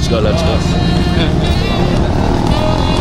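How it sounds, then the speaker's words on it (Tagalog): Motorcycles at a test ride event at a custom shop's anniversary in a tented venue, engines droning and revving steadily and loudly, with people talking over the din. "Ito test ride ng mga motor."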